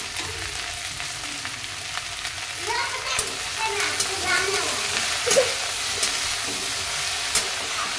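A turmeric-spiced dish cooks on medium flame with a continuous sizzle and bubbling, scattered utensil clinks, and a voice speaking softly over it.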